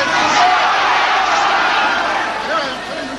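A crowd of boxing fans at Granada Studios in Manchester, many standing, roars and cheers in a continuous wash of noise with shouts rising out of it.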